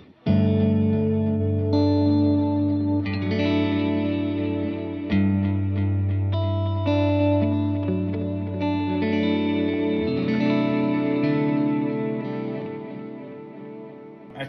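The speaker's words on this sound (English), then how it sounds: "And then I have a ping pong delay." Electric guitar played through a ping pong delay pedal on a pedalboard, sustained chords and notes bouncing in repeating echoes that ring on continuously, loud and alone, fading slightly toward the end.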